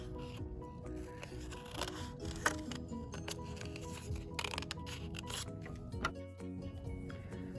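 Scissors snip through folded paper for a Calder-style sculpture craft: quiet, scattered crisp cuts and paper rustles, close up, with no talking.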